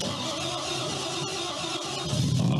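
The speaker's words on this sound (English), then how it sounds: "we got the car all cranked up and we are ready to go" A car at an auto show runs after being cranked up, its engine giving a steady mid-range hum, fairly quiet and even throughout, with a slight rise near the end.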